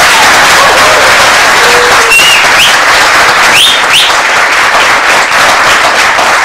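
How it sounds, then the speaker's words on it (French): Loud, dense applause from an audience on a Burkina Faso television morning show, sustained clapping with a few whistles cutting through, continuous and close for over six seconds. "J'aimerais qu'on applaudisse ce brillant."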